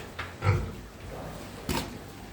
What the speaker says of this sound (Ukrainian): От такі кабанчики. Ці вже підростають